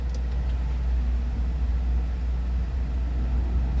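Semi truck engine idling to build air pressure for the trailer brakes, a deep, steady diesel rumble that fills the whole stretch at an even level, close by with no talk.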